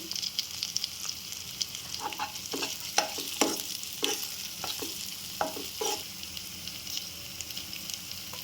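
Curry leaves and slit green chillies hit hot masala in a pan, giving a soft continuous sizzle with sharp crackling pops and stirring scrapes scattered through, fairly quiet and without voices.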